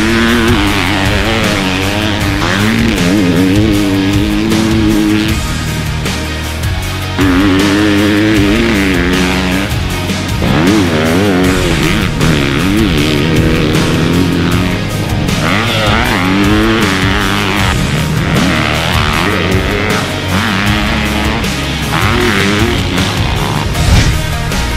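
Several 2022 250cc motocross dirt bikes, including a Honda CRF 250R, ride loudly nearby. Their engines rev up and down continuously with shifting pitch, and no one talks over them.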